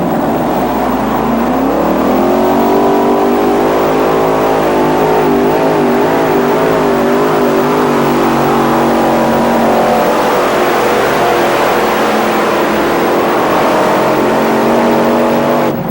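A loud 1986 NTPA tractor pull engine roars throughout a full pull at Bowling Green, Bruce Hutcherson's Makin modified tractor, its pitch climbing and holding in a steady, sustained howl up close.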